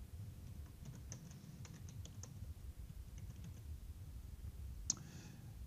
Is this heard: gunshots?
no